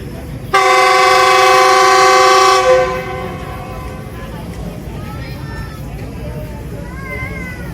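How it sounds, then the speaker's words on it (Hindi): A departing train at Toba Tek Singh railway station sounds a loud, steady horn blast for about two seconds, then fades into a low rolling rumble as it pulls away, with faint chirps in the background. "तकरीबन 4 मिनट खड़ी हुई है train Toba take Singh railway station पे और अभी रवाना हो चुकी है"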